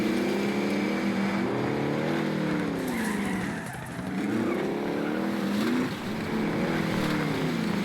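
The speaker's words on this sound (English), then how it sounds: "The dude was being loud as hell with that vehicle." A vehicle engine roars loudly in the Warzone video game, revving and rising in pitch as it drives closer, the sound swelling and dipping over about eight seconds with no talk.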